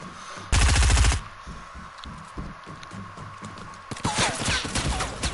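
Rapid automatic gunfire from a PS4 video game bursts loudly for about half a second, then quieter game sounds follow before another burst of shots near the end, with a faint voice in the background.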